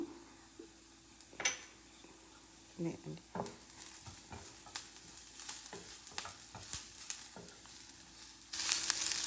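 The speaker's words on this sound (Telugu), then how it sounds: "ఈ ఆనియన్స్ బాగా రెడ్గా ఫ్రై అవ్వాలి" Onions and tempering with a pinch of hing frying in a pan, a soft sizzle broken by scraping stirs and light clinks of a spoon against the pan, close and fairly quiet.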